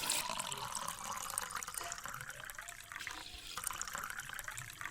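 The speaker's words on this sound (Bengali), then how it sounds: "এবার দুধটা আমি একটা পাত্রে ঢেলে নিচ্ছি" Thickened boiled milk pours into a bowl while making a caramel egg pudding, a soft, steady liquid splash and trickle heard close up with no voices.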